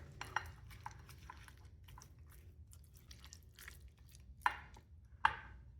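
Raw shrimp being stirred with onion powder, garlic powder, salt and smoked paprika in a bowl, soft wet squelches and scattered clinks of a utensil against the bowl, with two sharper knocks near the end.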